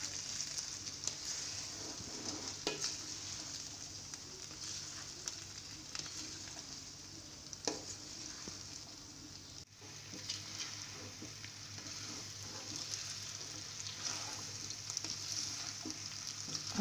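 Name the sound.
stirring chicken vegetable macaroni frying in a pan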